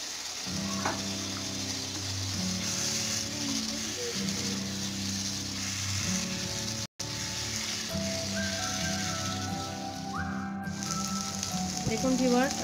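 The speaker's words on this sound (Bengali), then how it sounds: "এখন আমি টমেটো কুচিটা দিয়ে দিব।" Chopped tomato dropped into beef mince sizzling in a pan for samosa filling, a steady loud frying hiss with brief crackling and stirring, no talking.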